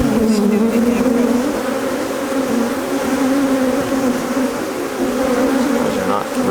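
A strong beehive in winter hums with a dense, continuous buzz of many bees, loud and close, steady throughout with only slight swells in intensity.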